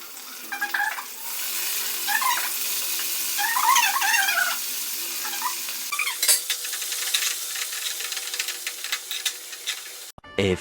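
Greens, garlic, ginger, cardamom, cloves and star anise fry in a pan for dum biryani, a steady sizzle broken by stirring scrapes and clinks of a spoon against the pan, close and continuous.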